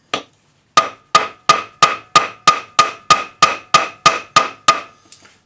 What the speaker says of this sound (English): Now we're going to forge this to half its thickness. Use the rounded end of a planishing hammer.